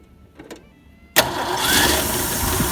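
A car engine cranks and catches after the key is turned, bursting into a steady, smooth idle that holds loud and close after a few faint clicks and quiet moments.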